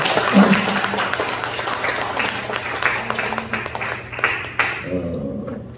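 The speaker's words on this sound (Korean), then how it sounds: "우리 박수로 축복하고 격려하겠습니다." A congregation applauds during a Sunday morning church service, a sustained patter of many hands clapping in a room with a low hum beneath, fading out as a voice begins.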